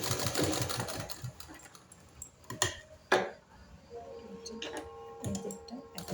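A sewing machine stitches cloth for a latkhan design, its quiet mechanical ticking and whirring mixed with a busy, cluttered room background and a few sharper knocks.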